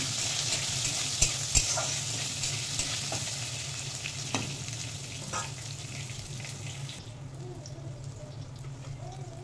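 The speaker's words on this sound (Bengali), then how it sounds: "বেগুনটা হালকা ভেজে নিয়েছি" Eggplant frying in oil in a pan, seasoned with radhuni and cumin, sizzles steadily while a spatula stirs it with occasional scraping clinks; the frying quiets toward the end.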